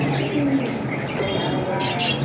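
A pair of khaki pigeons, including a silver khaki, cooing and chirping at a pigeon sale amid steady busy background noise, soft repeated calls with no talk.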